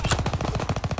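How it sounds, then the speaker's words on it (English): Aircraft strafing run in the Call of Duty WWII video game: a rapid, rhythmic burst of heavy automatic gunfire, loud and close, about a dozen evenly spaced shots in one second with no talking. "Call for a strafing run."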